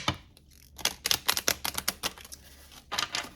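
Tarot cards being shuffled by hand, a quick run of crisp riffling clicks and flutters close to the listener, pausing briefly before another short burst at the end.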